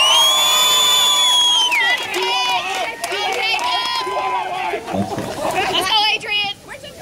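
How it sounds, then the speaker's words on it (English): A crowd greets a marching band with loud cheering, shrill whoops and high-pitched shouting that swells near the start and then breaks into scattered yells, with many overlapping voices throughout. "how about a round of applause for the 2018 Spirit of San Antonio marching band?"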